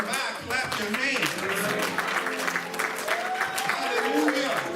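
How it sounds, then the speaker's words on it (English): Church congregation clapping hands in a praise service, a continuous dense clapping texture mixed with a prominent singing or preaching voice throughout. "If you know Jesus is standing by, clap your hands"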